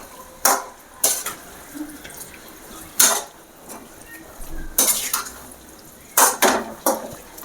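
A spoon scrapes and clanks against a pan as chicken is stirred for dried chilli chicken, brief separate clatters in an uneven rhythm over quiet background.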